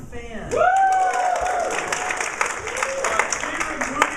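Audience applause and cheering at an improv comedy show, a rising swell of clapping with whoops from the crowd, steady and moderately loud, with a voice sounding over it.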